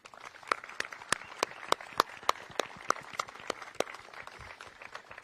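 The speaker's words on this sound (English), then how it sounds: "So please give them a round of applause." Scattered applause from a small outdoor audience at a restoration project ribbon cutting, with distinct individual claps ringing out at an uneven rhythm over a soft wash of quieter clapping.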